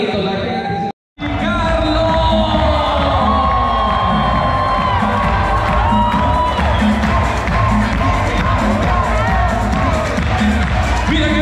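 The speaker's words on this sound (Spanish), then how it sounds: "Comienzan los aplausos, los gritos, la gente." Wedding guests cheer, shout and applaud in a loud, continuous crowd roar with whoops and raised voices, briefly cut by a short silence near the start before the noise swells and holds steady.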